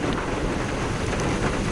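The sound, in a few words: strong wind and rain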